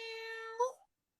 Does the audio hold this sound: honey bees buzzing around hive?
no